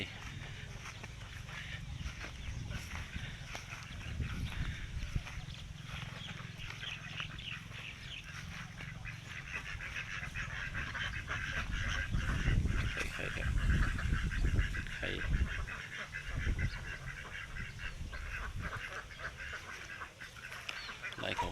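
A continuous chorus of laying ducks and crested ducks quacking and honking, dense and steady throughout, with occasional louder bursts.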